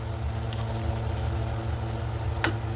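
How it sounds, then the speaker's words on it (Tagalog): Shrimp paste cooks in a pan with tomato and onion, giving a soft, steady sizzle over a low background hum. Two brief scraping clicks stand out, and no one speaks. "So yan, gisa muna natin siya na mabuti."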